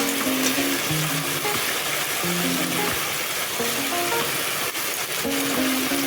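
Crab pieces fry in hot oil with a dense, continuous sizzle and crackle, close and steady, with faint stirring clinks scattered over it.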